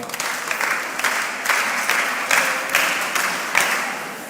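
An audience at a mentorship session claps for a speaker, a lively burst of many hands with slight rhythmic surges, close and fairly loud, no talking over it.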